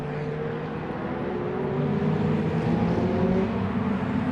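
Ferrari 488 Challenge race car engines drone steadily at night at Daytona, a dense mechanical roar that swells slightly as cars pass at a distance, with no talking.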